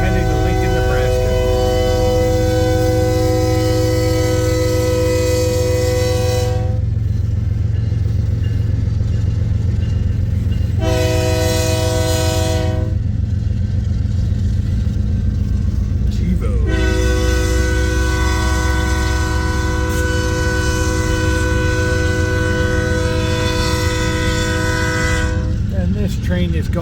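A freight train bound from Kansas City to the ADM plant in Lincoln, Nebraska, rumbles past steadily at Pacific Junction, Iowa, its horn sounding in three long, loud blasts over the continuous roar of the passing cars.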